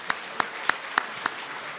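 Congregation clapping during a church sermon: five soft, evenly spaced claps, fairly distant and faint over a quiet room hiss, with no talking.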